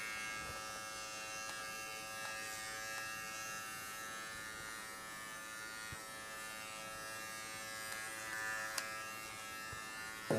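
A kensen USB-C electric body trimmer set to 2 millimetres buzzes steadily as it shaves hair, a thin continuous hum close by with a few small clicks and a brief bump near the end.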